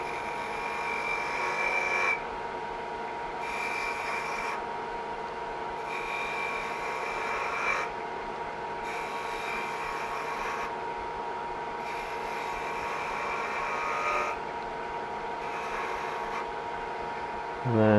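A 10mm spindle gouge cuts a bead into wood spinning between centres on a lathe, giving a steady, fairly loud scraping hiss broken by short pauses every couple of seconds.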